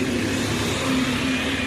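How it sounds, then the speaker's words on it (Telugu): A London double-decker bus passing outside a shopping centre, a steady mid-pitched engine drone with a sustained hum, fairly loud and continuous with no voices. "అది డబుల్ డెక్కర్ బస్సు."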